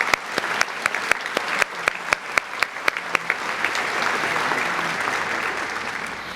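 Audience at a senior awards night applauding scholarship donors: sharp individual claps ring out early, then swell into a fuller, steady round of applause that carries on to the end.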